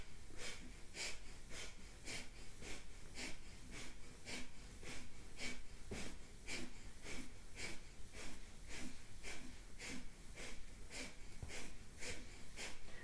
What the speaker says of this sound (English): so that it becomes like a cleansing breath. I'm going to be exhaling quite forcefully.